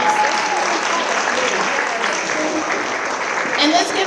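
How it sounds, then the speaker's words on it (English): A large audience at a Latina leadership panel gives a sustained round of applause, a dense, loud, even wash of clapping and crowd noise from start to finish. "You all need to give yourselves a round of applause."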